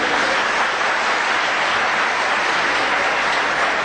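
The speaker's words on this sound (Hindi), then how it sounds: "इसी बात पर एक छोटी सी ताली हो जाए" Audience at a comedy show breaks into applause, a loud, dense, even wash of many hands clapping at once, sustained at full volume without a pause or voices.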